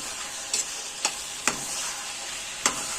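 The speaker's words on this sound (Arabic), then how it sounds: "هقلب كويس" Hot peppers and bell peppers are stirred in a pan of ghee and oil, giving a faint steady sizzle broken by about four sharp scraping strokes of the spoon.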